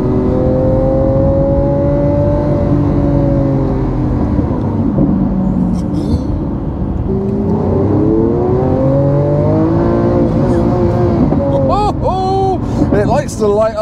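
A Lamborghini engine revs and accelerates on a cold country road, a loud continuous drone with rising and falling pitch as it climbs through the gears, with someone talking over it throughout.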